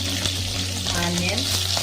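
Green chillies sizzle and fry in an oil-filled pan while dal is being cooked with chukka kura greens, giving a steady, close crackle with faint stirring and no talk.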